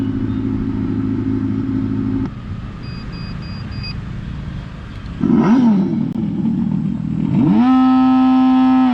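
Custom speaker sound from a Revolt RV400 electric motorcycle, a loud synthetic engine rumble that drops to a quieter hum, then swells with rising revving sweeps near the end.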